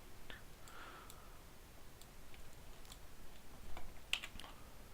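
A few scattered computer keyboard key presses, soft and fairly close, with one sharper click near the end, over a faint steady room hum and no speech.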